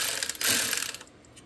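A hand ratchet backs out bolts on a Toyota RAV4 transmission pan, a short burst of rapid close clicking lasting about a second before fading to quiet.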